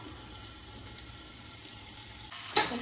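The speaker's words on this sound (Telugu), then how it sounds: "ఇట్లా ఆయిల్ తేలాక క్రాప్స్ ఇందులో వేయాలి" Crabs fry in a pan of hot oil with a steady, low hiss that swells into a sudden louder sizzling burst near the end, heard close with no voices.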